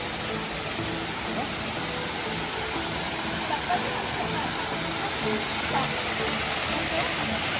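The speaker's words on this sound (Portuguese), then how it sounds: "O nome dessa cachoeira é arco-íris, porque justamente ali sempre forma um arco-íris" Continuous roar of the Arco-íris waterfall in El Salvador, a dense, loud rushing wash of falling water that stays even throughout.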